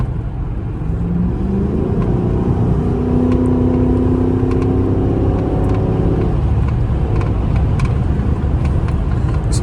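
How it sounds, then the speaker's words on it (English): A Chrysler 300C pulls under light throttle, its engine note rising steadily in pitch for several seconds as it accelerates, then settling into a loud, steady road and engine drone close by. "It's a little light throttle pull right there."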